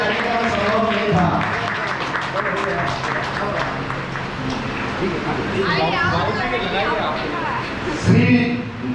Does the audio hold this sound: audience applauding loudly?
yes